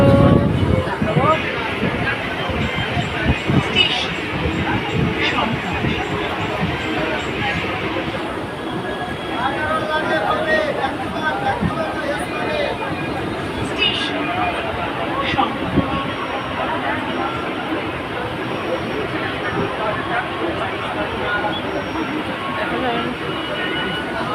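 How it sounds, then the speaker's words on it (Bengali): Steady rumble and clatter of a moving train carriage, with continuous wheel and track noise and a background murmur of passengers talking. "তো দেখো ট্রেনে উঠেছি"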